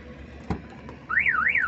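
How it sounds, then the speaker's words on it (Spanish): Nissan NP300 pickup truck car alarm: after a brief click, a loud warbling siren tone rises and falls in steady sweeps, alone and close by. "Ahí está puesto los seguros y la alarma, según ella."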